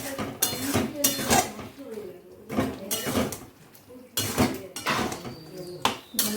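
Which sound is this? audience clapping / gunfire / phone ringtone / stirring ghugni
stirring ghugni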